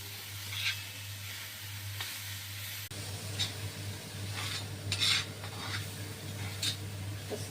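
Fresh fenugreek leaves are stir-fried dry on a tawa for methi bhaji: a steady soft sizzle with repeated scraping strokes of a spatula on the pan and a low background hum.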